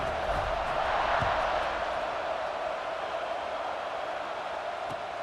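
Stadium crowd in EA Sports College Football 26 roars in a dense, steady wash of cheering before a kickoff, loud and continuous throughout without distinct voices on top.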